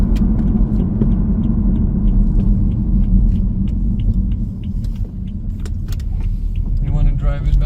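A rebuilt BMW 3 Series engine drives at steady, gentle speed, a continuous low rumble of engine and road noise inside the cabin, with light clicks and a brief whirr near the end; voices speak over it.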